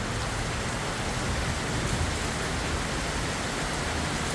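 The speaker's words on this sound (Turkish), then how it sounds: "Bugün hiç olmadığı kadar bu yağmurun keyfini yaşıyoruz" Steady rain falls in Fethiye Seydikemer, Turkey, a dense, even hiss of drops hitting surfaces that continues unbroken and fairly loud, with no voices.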